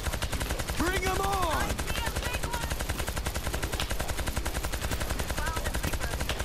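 Rapid gunfire rattles in the World War Z video game, a dense continuous stream of shots under brief voices and in-game calls, loud and close throughout.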